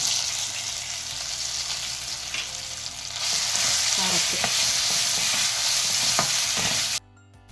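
Grated raw mango and green chillies frying in a pan, a steady close sizzle that grows louder partway through, with stirring scrapes and crackles before cutting off abruptly at the end.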